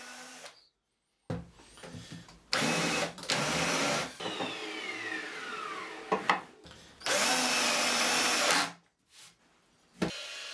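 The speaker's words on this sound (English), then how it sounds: "So it's just a case of straightening it off with the planer." Power planer straightening a raised, warped edge on a wooden bench top, loud whining passes in several bursts separated by short pauses, close by with no talking.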